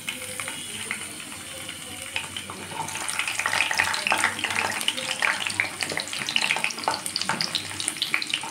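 Chopped beans hiss and crackle in hot oil and ghee, the frying growing louder and busier partway through and continuing as a dense, close sizzle.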